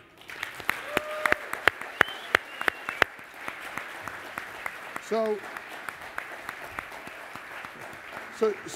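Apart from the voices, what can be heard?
audience applause welcoming someone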